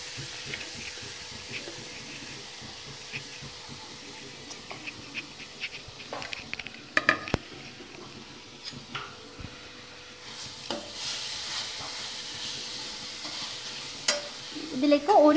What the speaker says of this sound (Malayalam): നെയ്യ് ചൂടായി വന്നിട്ടുണ്ട് ഇനി ഇതിലേക്ക് മാങ്ങ ഇട്ട് കൊടുക്കാം